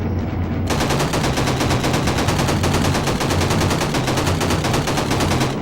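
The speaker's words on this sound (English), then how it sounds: "Nice shooting, Stretch." Relentless machine gun fire from bomber turrets in the Call of Duty 2 video game, a dense rapid stream of loud, close bursts that grows even fuller after the opening second.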